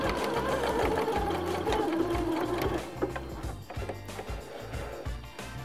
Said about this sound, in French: vous pouvez coudre sans problème en passant sur vos aiguilles